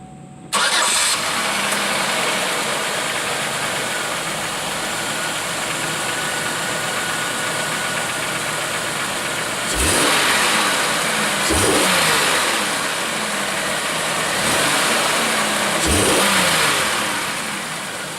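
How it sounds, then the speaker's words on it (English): A Pontiac Aztek engine cranks and catches, then idles steadily before being revved three times in quick bursts, loud and close. "This is one of those engines that just have a wonderful sound"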